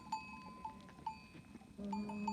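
Goats in a farm herd, with a few clear bell-like clanks ringing at intervals, closing on a drawn-out bleat-like call, all over a low rustling background.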